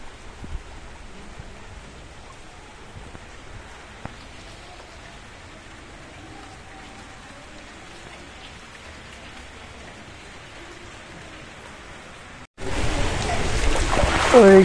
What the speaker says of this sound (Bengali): তেমন একটা বেশি বৃষ্টি পড়তেছে না এখন আপাতত।